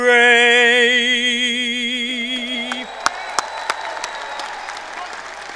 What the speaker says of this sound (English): How about one more round of applause for our Asheboro High School Air Force Junior ROTC and Marcus Lowry?